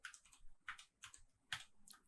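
Quick bursts of computer keyboard typing, several clustered keystroke runs with short pauses between them, close and fairly quiet with no speech.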